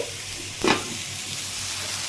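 Drumstick flowers fry in a pan with a soft, steady sizzle, quiet and close, broken by one brief clatter of stirring.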